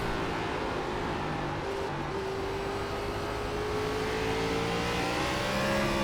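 NASCAR Gen 4 race cars roar around Kern County in the iRacing game, a sustained engine drone with a slowly rising pitch as the car accelerates, loud and steady throughout with no voices.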